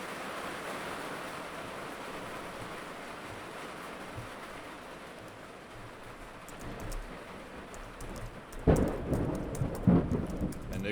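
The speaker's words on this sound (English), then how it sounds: "I don't know if you guys could hear that, but it's raining." Heavy rain pours steadily in New Jersey, then loud thunder rumbles and cracks close by near the end, over the constant hiss of falling drops.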